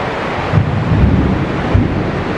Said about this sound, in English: but it's now raining outside.